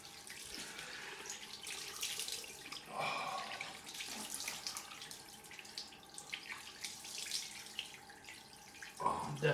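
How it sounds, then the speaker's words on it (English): Tap water runs steadily into a sink for a cold rinse after a straight-razor shave, a soft continuous splashing at close range with a louder gush near the end. "let's do the cold rinse."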